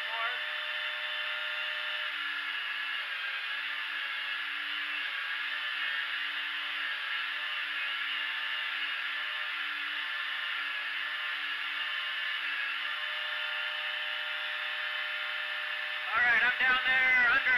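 Belt grinder bevel grinding a knife blade with a multi guide: a steady, loud, sustained motor whine and belt hiss that runs unbroken, then shifts abruptly near the end.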